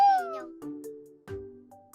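A house cat meows three times in quick succession, close and fairly loud, each call a drawn-out, falling wail.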